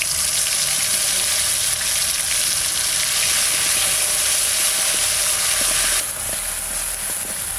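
Bay leaf, dried red chili and cumin seeds sizzle steadily in hot oil in a pan, a loud continuous frying hiss that drops slightly in level near the end, with no talk.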